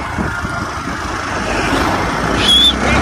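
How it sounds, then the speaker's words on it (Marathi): A vehicle passes along a roadside, a low engine rumble that swells gradually and grows louder toward the end, heard outdoors among steady background noise. "गाडी आहे"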